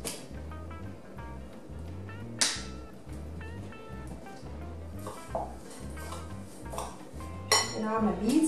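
A homemade granola mixture with coconut sugar and oil is stirred in a bowl, giving repeated scraping and clinking strokes in a steady rhythm, close by, with a few louder knocks of utensil against dish.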